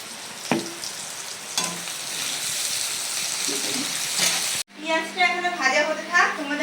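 Onions fry in a pan with a steady sizzling hiss and occasional spoon taps, then cut abruptly to a voice talking over the kitchen background.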